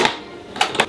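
A food processor lid is set back in place: a short plastic clack, then a quick pair of clicks as it seats, close and crisp.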